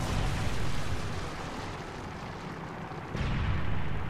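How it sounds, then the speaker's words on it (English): Predator missile strike in Call of Duty: Modern Warfare 3, a sustained low roaring rumble with a swell near the end, loud and continuous with no talk. "Deadly Predator missile inbound."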